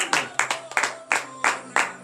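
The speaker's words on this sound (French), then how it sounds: "Donnez de vive acclamation." Congregation at a morning prayer service in Benin claps in a steady rhythm, about eight crisp, evenly spaced beats of many hands together, close and fairly loud.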